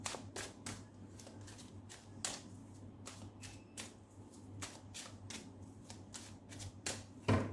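Rider-Waite tarot cards are shuffled and drawn, giving crisp riffling snaps and soft slides that come in irregular bursts, close and quiet over a low steady hum.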